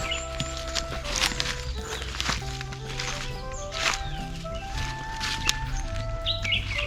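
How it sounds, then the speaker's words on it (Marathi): Birds chirp and tweet intermittently in a forest, scattered calls over a steady background with light rustling and footsteps nearby. "पक्ष्यांचा किलबिलाट"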